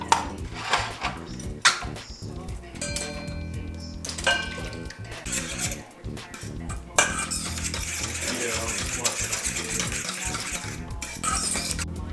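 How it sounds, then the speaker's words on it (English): Salisbury steak ingredients mixed with French onion soup in a bowl, with uneven clinks and scrapes of a utensil, then a steadier wet churning of stirring that continues to the end. "And then you're gonna mix those up together."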